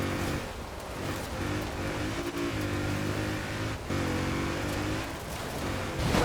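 A Mini X-Raid Countryman Dakar rally car in Forza Horizon 4 rumbles with a deep, gruff engine note, revving and easing off in uneven surges, loud and close without any voices.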